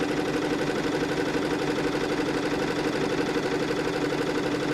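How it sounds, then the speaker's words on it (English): An embroidery sewing machine runs a tack down stitch for an applique, giving a steady, close mechanical whir with a fast even needle rhythm that holds level throughout, with no talking. "The machine will now sew the tack down stitch"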